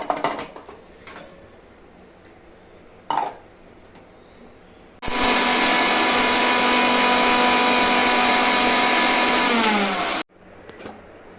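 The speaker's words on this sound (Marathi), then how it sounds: "आता मिक्सरच्या भांड्यामध्ये मी टाकून वाटून घेते" A kitchen mixer grinder whirs loudly for about five seconds while grinding cooled roasted spices, preceded by clinks of the jar being set up and followed by a quieter clatter.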